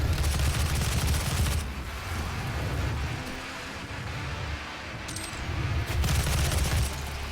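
A gun in the video game Doom fires in sustained rapid bursts, loud and dense, with a pause in the middle before the firing resumes.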